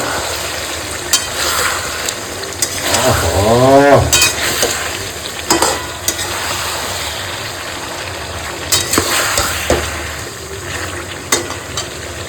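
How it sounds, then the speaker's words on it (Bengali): Chicken curry with fried potatoes being stir-fried in a pan over a gas flame, giving a steady low sizzle with scraping stir strokes and a few louder clatters, with no talking. "ভাজা আলুগুলো দিয়ে একটু ভালো করে কষাবো"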